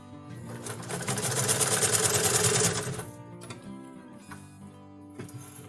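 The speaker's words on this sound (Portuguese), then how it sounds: "Deixa o pezinho da máquina encostado nessa linha caramelo e só ir costurando sempre na mesma direção" A domestic sewing machine stitching a quilt, running in a fast continuous whir for about three seconds, then slowing to a few short bursts, close and clear without talk.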